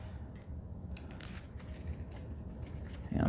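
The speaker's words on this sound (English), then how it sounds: "Am I shuffling the right way?" Tarot cards are shuffled by hand during a reading, with soft, crisp riffling and sliding taps in quick bursts over a low room hum and no talking.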